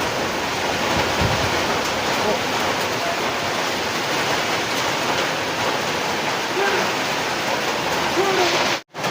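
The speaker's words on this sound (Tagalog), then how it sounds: "Sobra na ang ulan." Steady, dense roar of heavy rain from Typhoon Inday pouring down without a break, loud and close, cutting off abruptly at the end.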